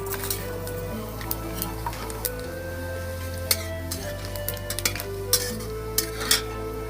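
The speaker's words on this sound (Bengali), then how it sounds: "এখন আমি ফোড়ন দিয়ে দেবো।" Whole spices crackle and sizzle in hot oil in a wok, giving a steady frying hiss broken by sharp pops and the clink of a utensil, under soft background music.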